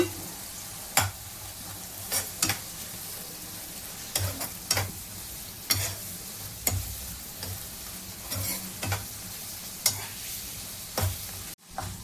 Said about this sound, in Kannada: ಇದೆಲ್ಲ ಹಾಕಿ ಒಟ್ಟಿಗೆ ಮಿಕ್ಸ್ ಮಾಡಬೇಕು